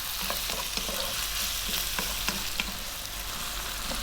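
Onion and potato pieces frying in a pan over above-medium heat for aloo keema, a constant close sizzle with scattered stirring clicks and scrapes, no voices.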